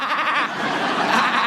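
A person imitates a sheep, letting out a single wavering, nasal bleat that lasts about a second and a half, close and loud.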